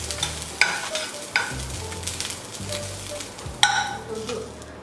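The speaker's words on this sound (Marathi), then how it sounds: "मी थोडा वेळ मटकी पण फ्राय करायला ठेवते थोडीफार" Moth beans (matki) fry in a pan already used for roasting spices, a low steady sizzle punctuated by a few sharp clacks and scrapes of stirring, with no voices.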